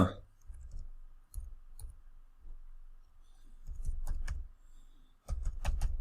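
Computer keyboard keys clicked in short bursts while entering bank card details for an online payment, close and moderately loud, with quiet gaps between the bursts and no talking.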